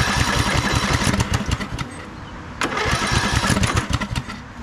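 A Craftsman LT2000 lawn tractor engine cranks over on choke without catching, two close runs of rapid, loud, rhythmic starter churning separated by a brief lull.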